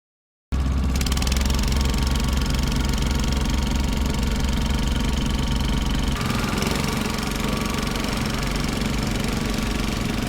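A loud, steady boat engine drones and knocks continuously at close range on the Mekong Delta at a floating market in Can Tho, Vietnam, with a slight change in tone partway through.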